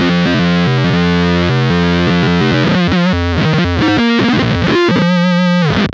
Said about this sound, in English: keep turning the Hell control up to get a louder signal of that 1 octave down